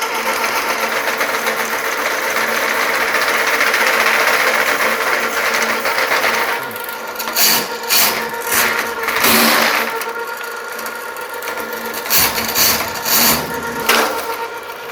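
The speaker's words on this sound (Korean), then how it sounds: "가정용으로 또 이제 개인용으로 사용할 수 있는 10만원대의 하수구 청소기계 스핀샤크에 대해서 리뷰를 해드렸습니다" A Spin Shark household drain-cleaning machine, a budget cable unit for clearing blocked drain pipes, runs with a steady motor whir that later breaks into bursts and pauses as the cable is worked, close and fairly loud with no talk.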